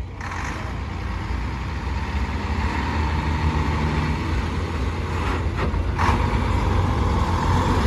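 A vintage Scammell lorry fitted with a Rolls-Royce 305 engine runs steadily at a steam rally, a deep continuous diesel rumble close by with little change in loudness throughout.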